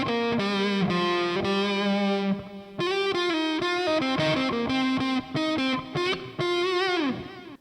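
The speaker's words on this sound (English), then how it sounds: "And your third and last overdrive is your US Classic Overdrive." Electric guitar through a Lekato PA-1 headphone amp on its US Classic Overdrive setting, modeled on a Fender Blues Deluxe, plays a loud, warm overdriven riff of sustained chords and single notes with brief gaps, no voice.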